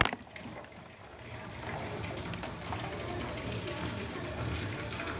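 Water running steadily from a pipe into a household storage tank in a home in India, a continuous gushing flow that holds at an even level throughout.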